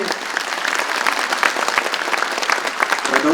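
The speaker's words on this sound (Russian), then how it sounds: "Ваши аплодисменты еще раз, друзья." Audience clapping fills the concert hall, a dense, continuous wash of applause that swells slightly toward the end.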